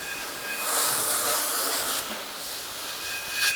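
Water spray rinsing a tire, a steady close hiss of pressurized water running for a few seconds with slight swells in intensity.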